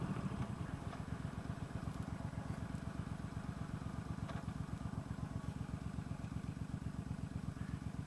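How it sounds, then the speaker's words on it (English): A mid-size V-twin bobber motorcycle engine idles nearby with a steady, rapid low thumping pulse, even and unbroken, with no talking. "the engine is thumping away"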